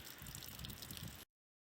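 Water drains and trickles out of the lines and holding tank of a Class A motorhome during winterization, a steady splashing gurgle that stops abruptly.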